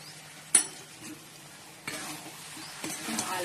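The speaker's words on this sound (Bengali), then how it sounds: "ভালো করে মিশিয়ে নিই" Cabbage with ghee, garam masala and sugar sizzling in a pan while being stirred, giving a soft steady hiss punctuated by a few utensil scrapes and clinks against the pan, close and fairly quiet.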